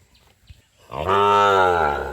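A Sahiwal bull moos close by in one long, loud, deep bellow that starts after a second of quiet and holds steadily to the end, with faint knocks before it.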